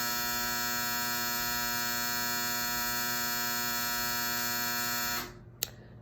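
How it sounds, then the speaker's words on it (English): A clothes dryer gives off a steady, loud electric buzzing drone for about five seconds, then cuts out, followed by a single sharp click in near quiet. "That was the dryer."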